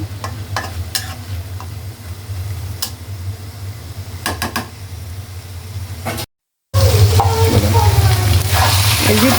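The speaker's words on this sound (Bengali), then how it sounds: "ভালো কইরা বাজা বাজা কইরা রান্না করুন আমরা আরও দশ মিনিট এগুলো বাজা বাজা করুন" Onions and dried lotta fish fry in a pan while being stirred, a continuous sizzle broken by sharp scraping clicks of the spatula, growing louder and busier after a short gap.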